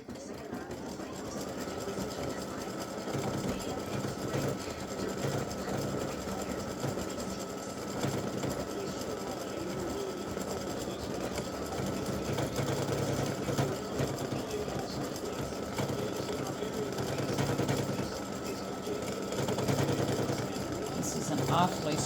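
An embroidery sewing machine stitches tiny star shapes for earrings, a continuous mechanical whir and rapid needle chatter holding steady throughout, close and moderately loud, with a person speaking over it at times.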